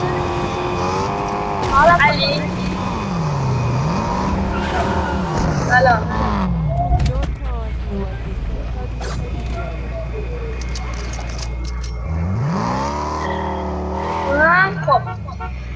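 A car in the Fortnite battle royale game drives with a droning, shifting engine and repeated tire squeals and skids, under steady chatter from players throughout.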